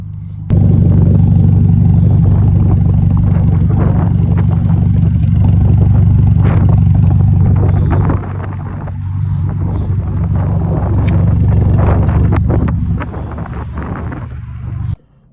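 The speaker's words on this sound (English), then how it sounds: "So what I'll do is I'll do some revving" A 2022 Ferrari Roma engine revs loudly and close, a sustained deep rumble that holds steady, dips briefly around the middle, then swells again before cutting off at the end.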